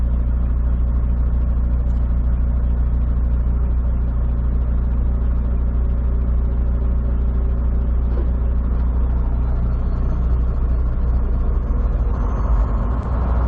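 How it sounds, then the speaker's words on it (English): A large highway truck stop rumbles with steady engine noise from idling and passing trucks and cars, a loud continuous low drone with no clear breaks and no talking. "Got a lot of traffic coming in and out of this place."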